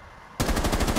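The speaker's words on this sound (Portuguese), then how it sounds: "Não, tô ouvindo tiro." Automatic gunfire in the tactical shooter Rainbow Six Siege bursts in abruptly after a quiet moment, a rapid, loud string of evenly spaced shots with no talk.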